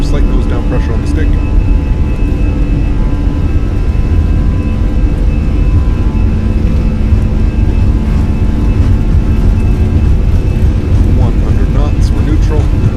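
An airliner's jet engines spool up to takeoff power in Microsoft Flight Simulator, on an easyJet flight. The roar is loud and steady, with a tonal whine running through it, and voices talk quietly underneath.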